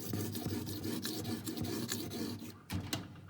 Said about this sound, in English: Take the razor blade, scrape all that down.